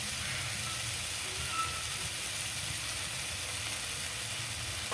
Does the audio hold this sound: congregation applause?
no